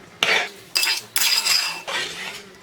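Pineapple pachadi stirred in a pan, a spoon scraping and clinking against the metal in four distinct strokes with short pauses between, close and fairly loud.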